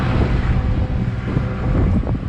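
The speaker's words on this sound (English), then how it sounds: "it's a little chilly and a little windy" Strong wind buffets the microphone outdoors at a soybean field during harvest, a steady low roar with gusty rumble throughout and no voices.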